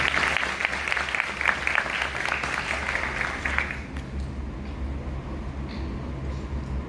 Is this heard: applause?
yes